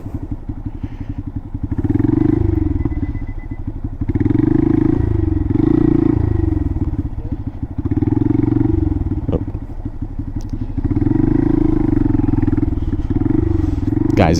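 A Honda Monkey motorcycle's small engine putters loud and close during a slow, tight U-turn, its throttle swelling and easing in regular waves with some clatter.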